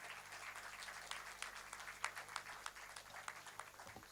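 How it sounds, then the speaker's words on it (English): Audience applause at a conference award ceremony as a presenter is called on stage, a quiet, fairly distant wash of clapping with scattered sharper claps over a low steady hum. "A big round of applause, please."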